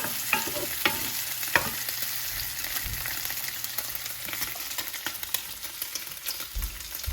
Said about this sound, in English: Now we're going to add the broccoli.